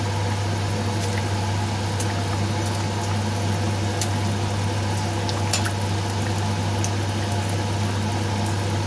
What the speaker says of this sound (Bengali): কিছুক্ষণ এটাকে ফুটিয়ে নেবো